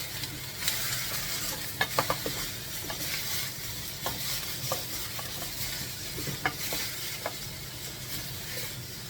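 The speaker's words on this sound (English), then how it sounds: "Now we're going to add in our sweet potato. Give it a bit of a mix in there." Sweet potato stirred into a soup pot, with soft scraping and clinking of the spoon over a steady background sizzle, close by and without voices.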